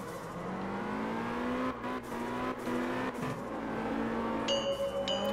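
Engine of a drifting car in the video game Absolute Drift, a steady droning rev that rises and dips through the slides, with a short chime-like tone near the end.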